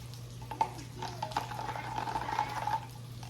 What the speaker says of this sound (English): And then you're just gonna take your frother and froth it up.